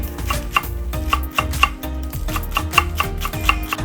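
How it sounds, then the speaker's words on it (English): Knife thinly slicing scallions on a cutting board, a quick run of sharp, close taps in an even rhythm with brief pauses between strokes. "Thinly slice some scallions as well."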